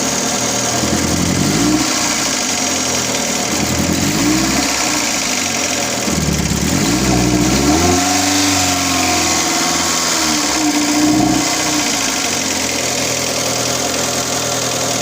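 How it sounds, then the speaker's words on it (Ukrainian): A Chery Tiggo 2.0 petrol engine with a misfiring cylinder runs loudly and unevenly up close, idling with a lumpy, wavering beat and rising in several revs before dropping back. "Оце так двигун нерівномірно працює, пробуємо набрати оберти."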